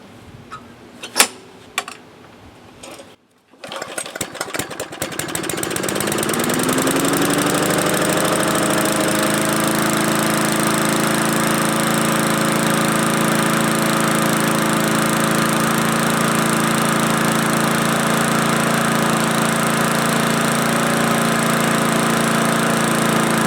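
A Murray lawn mower engine is pulled a few times, catches, then revs up and settles into a loud, steady running drone close by, with no talking.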